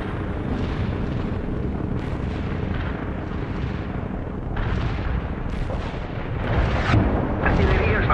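Artillery fire support in the real-time strategy game World in Conflict: a dense, continuous battlefield rumble broken by repeated heavy blasts and booms of varying strength, loud and sustained throughout.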